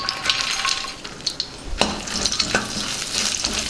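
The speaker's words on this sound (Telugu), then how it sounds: "ఇందులో పూల్ మకానీ వేసి వేయించుకుందాం" Phool makhana (fox nuts) fry in a little oil in a pan, a close continuous sizzle broken by stirring scrapes and a few light clinks of a spoon on the pan.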